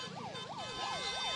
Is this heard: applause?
no